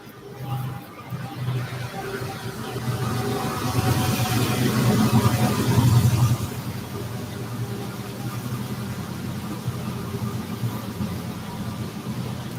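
A train rumbles past at close range, a steady low engine drone swelling to a peak around the middle and then easing into a continuous lower rumble, with no speech over it.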